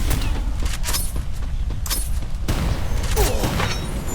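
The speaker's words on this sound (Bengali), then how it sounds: "এই স্নাইপার প্লেয়ার আছে এটা দুটো শট লাগাই দিচ্ছে" Sniper rifle shots ring out in a battle royale video game, sharp cracks standing out against a dense, loud barrage of continuous gunfire.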